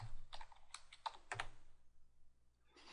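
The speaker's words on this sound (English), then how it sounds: "then we type in our credentials. Put in my password." Keystrokes on a computer keyboard as a password is entered, a quick irregular burst of clicks followed by a pause and a few more taps, close and moderately loud with no talking.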